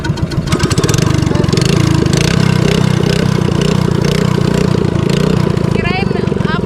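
A boat's motor in Enggelam, a village with no dry land, runs loud and close with a steady, throbbing drone for the whole stretch, while people talk over it.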